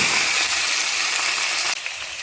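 Ridge gourd, soaked green moong dal, onion and tomato sizzle steadily in a hot pan, a close, continuous frying hiss with a brief stir-like break near the end.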